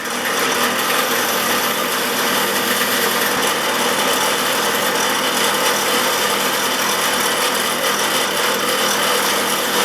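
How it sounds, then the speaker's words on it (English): A steady, harsh abrasive whir of a spinning wire wheel cleaning small metal parts from a Stanley Bed Rock 607 jointer plane, continuous and loud throughout with no pauses. "And it's on to the wire wheel."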